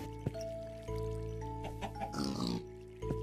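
Pigs on a player's underwater island in a Minecraft-style survival game grunt and oink in a few short close snorts, with soft watery trickles and faint game sounds between them.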